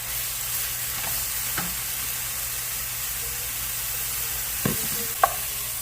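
Taco-seasoned ground meat for enchiladas sizzles steadily in a frying pan, a constant fry hiss with a few scraping stirs and clinks near the end, no voices.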